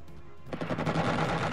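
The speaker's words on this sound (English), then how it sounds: "See, it rolls, and we shoot our other missile." Aircraft combat in the video game Xenonauts, with a quiet start giving way to a dense burst of rapid gunfire and missile launches that fills the rest of the moment loudly.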